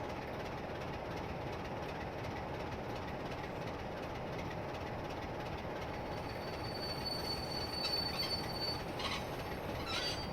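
Freight train reversing over a section of track in a train simulator game on the West Coast Main Line, with a low steady rolling rumble, faint clicks and thin wheel squeals rising near the end.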